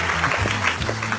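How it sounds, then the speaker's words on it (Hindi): Audience applause bursts briefly in a scene from a Hindi-dubbed drama, a dense wash of clapping with voices and a low tonal background beneath it. "जोरदार तालियां और जोरदार।"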